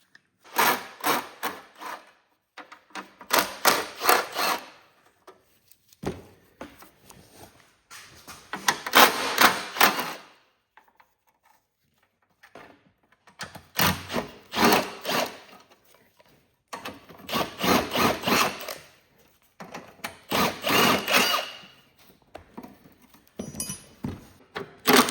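Ratchet spinning off top bolts on a seized Kohler Magnum 18 engine from a Cub Cadet 1862 tractor: rapid clicking bursts of a few seconds each, repeated several times with pauses between, close and fairly loud.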